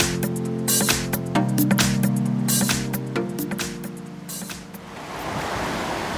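Waves surge and wash onto a beach on Koh Phangan, Thailand, in repeated broad rushes of surf, with a sustained tonal hum running underneath and no speech.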